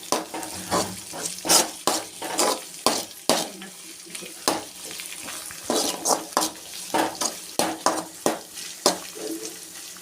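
A spoon scrapes and clatters in a pan of veg Maggi noodles in quick irregular strokes, close by, with a faint sizzle underneath.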